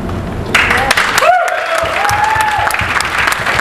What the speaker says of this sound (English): those of you who are clapping your hand